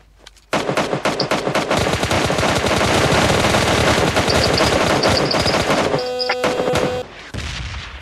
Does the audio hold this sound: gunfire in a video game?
yes